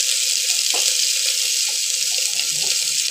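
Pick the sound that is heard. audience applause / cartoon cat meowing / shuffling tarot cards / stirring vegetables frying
stirring vegetables frying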